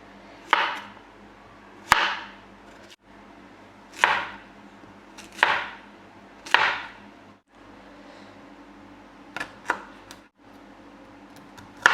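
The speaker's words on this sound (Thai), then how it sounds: "เดี๋ยวจะหั่นผักนะคะที่เราเก็บมาจากสวนค่ะ" A knife chops vegetables picked from the garden in a series of sharp, separate cuts against a board, close and fairly loud, with short pauses between them.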